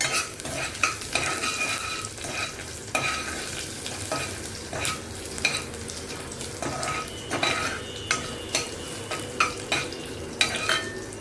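Crushed garlic fries in a hot mustard-seed tempering for a sprouted val bean curry, with a steady sizzle and repeated sharp clinks and scrapes of a spoon against the pan throughout.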